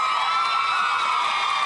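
A talk-show studio audience cheers and whoops in a continuous high-pitched roar, loud and sustained throughout the short moment.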